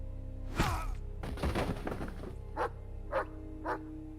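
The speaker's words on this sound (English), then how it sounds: "The dog started barking but was held back by his handler" A dog barks several times, a few loud close barks followed by a run of spaced single barks, with dull thumps in between and no talking.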